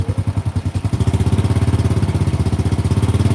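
A motorcycle engine with a full-wave electrical setup is throttled from a loping, chugging idle into a faster, steady loud putter, recorded up close with no speech.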